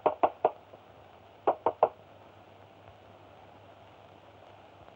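Knuckles rap on a wooden door in two quick bursts of three knocks, crisp and close, then a pause before a single knock starts again at the end, with faint hiss in the background.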